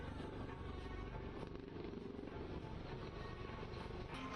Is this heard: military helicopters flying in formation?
yes